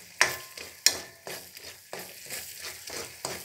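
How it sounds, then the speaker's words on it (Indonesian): Spices frying in hot oil for Balinese ayam betutu are stirred in a pan, a close sizzle broken by several distinct scraping strokes and clinks of the utensil, with no voices. "Aduk lagi"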